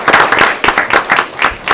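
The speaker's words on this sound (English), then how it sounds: "Let's give them another round of applause." A short round of applause at a school board of education meeting honoring teachers, heard as a few close, distinct bursts of clapping that rise and fall in uneven pulses.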